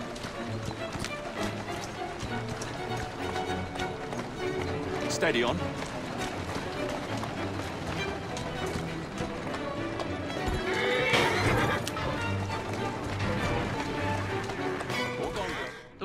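A horse in the video game Assassin's Creed Syndicate trots with steady clip-clopping hooves and gives a whinny, close and continuous over street ambience, while someone speaks briefly.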